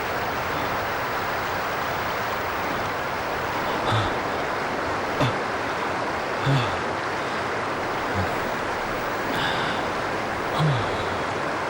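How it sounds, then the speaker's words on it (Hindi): Steady broadband roar of rushing water from a frightening waterfall fills the scene, constant and loud, with faint scattered knocks and thuds over it. "यार ये झरना तो बहुत डरावना।"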